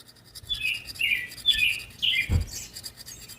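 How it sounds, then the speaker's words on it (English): A bird chirps several times in quick bright bursts nearby, with a brief low thump partway through. "There's a damn bird at the moment."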